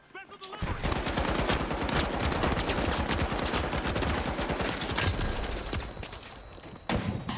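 Dense, sustained automatic gunfire from a heavy LMG in the arena shooter The Finals, loud and continuous for several seconds with overlapping shots and impacts before it tapers off near the end.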